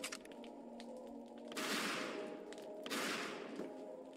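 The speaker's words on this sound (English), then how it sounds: "the homeless are shooting at me" Gunfire from homeless enemies in the video game Peripeteia, heard as two sharp, noisy bursts a second or so apart, each trailing off, over a quiet background.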